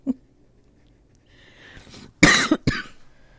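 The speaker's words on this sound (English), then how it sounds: "I'm sorry about the coughing fit." A few harsh coughs burst out close by after a quiet stretch, two or three loud hacks in quick succession with some throat noise.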